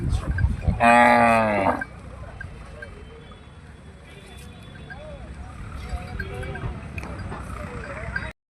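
A calf gives one loud, close moo at the Nulvi cattle market, followed by quieter animal calls and market bustle with people talking in the background.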